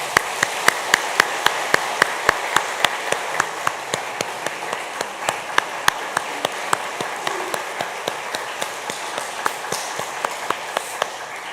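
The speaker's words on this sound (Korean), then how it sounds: "여러분 인사하실 때 뜨겁게 환영의 박수해 주시기 바랍니다" Warm welcoming applause from a church congregation greeting a newly appointed church staff member, steady clapping with sharp individual claps standing out, sustained at even loudness throughout.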